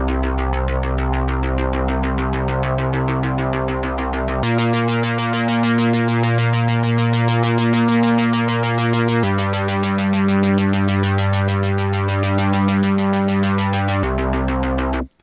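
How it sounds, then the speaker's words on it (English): A dark synth drone bass line in C, programmed on Maschine, throbs continuously with thick, buzzing sustained tones that shift pitch only a few times across long held notes. "it's just a drone kind of bass line"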